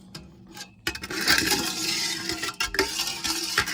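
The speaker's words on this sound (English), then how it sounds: "Stir it up." Brine stirred in jars for pickled tomatoes, a spoon clinking and scraping against glass in a quick close rhythm after a short quiet start.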